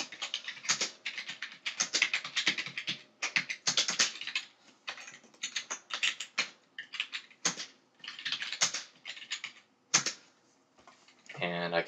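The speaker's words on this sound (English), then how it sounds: "You don't need to sit here while I type this." Computer keyboard typed on steadily while composing a message, close clattering keystrokes in irregular bursts with short pauses over about twelve seconds.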